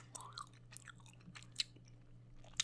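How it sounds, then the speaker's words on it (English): Soft, close gum chewing for ASMR, quiet wet smacks and small crunchy clicks in an irregular rhythm over a low hum, with no talking. "Some people really don't like gum chewing."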